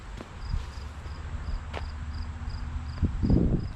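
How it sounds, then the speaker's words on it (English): Crickets chirp steadily in repeated short pulses along an old road trail in a wooded metropark, a faint background texture with footsteps and rustling nearby. "Hear the crickets."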